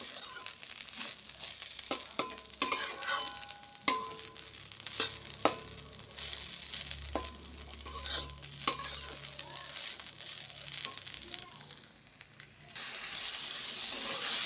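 Fish curry cooking in a pan, with soft sizzling under repeated sharp scrapes and clinks of a utensil stirring against the metal, spaced irregularly, followed by a steadier hiss near the end.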